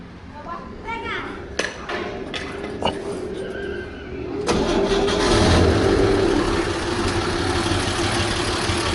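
A C10 pickup truck's engine cranks with a whirring starter for several seconds, then catches and roars into a loud, rough idle that carries on to the end; voices are heard faintly beneath.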